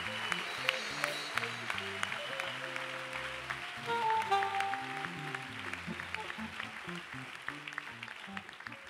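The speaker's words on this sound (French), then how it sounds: "I would like you to clap the Lord." A church congregation claps together during worship, a steady broadband patter of many hands running through the whole stretch over sustained keyboard or organ notes, with voices mixed in.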